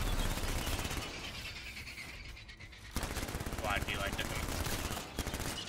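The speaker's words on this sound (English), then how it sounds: "I think I might just have to use this light SMG pistol every match." Rapid gunfire from a light SMG pistol in the video game Anthem, a dense steady stream of shots with game effects, loud and continuous, with someone talking over it.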